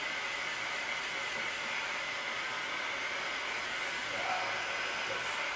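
A hair dryer runs steadily while drying freshly applied paint, a constant close-up whooshing blow of air with an even, unbroken roar throughout.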